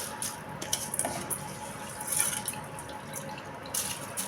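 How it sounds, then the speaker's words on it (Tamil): Water poured into a pot while cooking chickpea biryani, a soft continuous splashing trickle with small bursts, close and fairly quiet. "நான் தண்ணி ஊற்றிட்டு அரிசி போடுறேன்"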